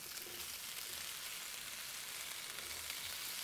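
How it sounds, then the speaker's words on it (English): A skillet of food fries in the video game Cooking Simulator, giving a continuous soft crackling hiss that stays even and low in level, with no one talking. "Nothing sounds better than the sizzle of bacon, but this is close enough."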